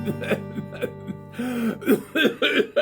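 A man coughs live on the radio, a string of rough, throaty coughs close to the microphone that runs into a raspy voiced stretch and wheezy, laugh-like bursts.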